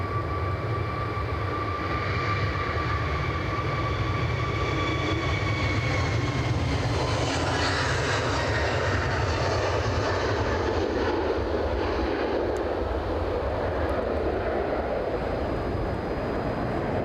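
Turkish Airlines jet engines roar steadily at Edinburgh airport, a loud continuous broadband rumble with a rising whine that swells in the middle and holds throughout, no voices.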